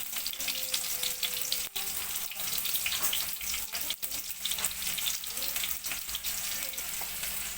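Chopped shallots fry in hot coconut oil in a pan, giving a steady, close hiss of sizzling that runs through the whole stretch with a few brief dips.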